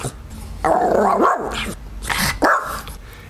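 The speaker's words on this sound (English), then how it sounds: "my dog wants to get involved in the show." A dog barks and growls close by in two loud, rough bursts, with a short gap between them and no talking over it.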